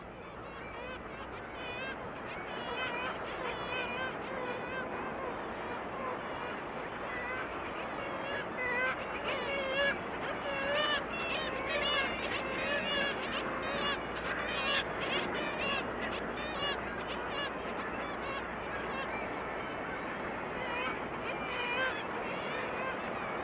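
A seabird colony of kittiwakes and puffins calls from the Skellig cliffs, a dense, continuous chorus of overlapping cries and squawks held at a steady mid-level distance with no talk.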